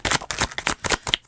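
Tarot cards being shuffled and drawn, a series of crisp riffling bursts with short pauses between them, close and fairly loud, with no talking.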